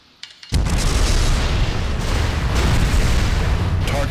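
A massive explosion erupts as a target is destroyed in Armored Core Nexus, bursting in suddenly after near-silence and rolling on as a loud, sustained rumbling roar.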